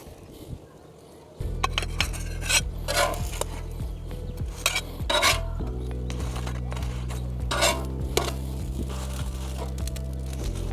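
Quesadillas come off a Blackstone griddle as a metal spatula clinks and scrapes against the hot steel over a constant low hum, with repeated sharp scraping strokes.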